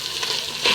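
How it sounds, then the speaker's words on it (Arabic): Rice sizzles and crackles in hot ghee in a pot, a steady close frying hiss with a louder burst at the end, for a short moment with no talking. "نسقط الرز على السمنة"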